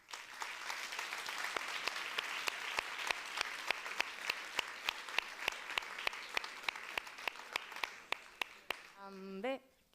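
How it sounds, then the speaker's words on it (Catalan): Loud audience applause at a Catalan short-film contest awards ceremony, dense sustained clapping from a crowd that fades toward the end, where speech begins. "Un fort aplaudiment pel Joan."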